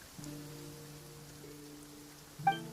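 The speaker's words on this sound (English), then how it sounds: "It's raining." Rain falls in the video game Genshin Impact as a steady, soft hiss beneath sustained musical tones, with a bright chime near the end.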